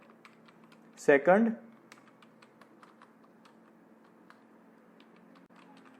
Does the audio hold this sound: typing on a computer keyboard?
yes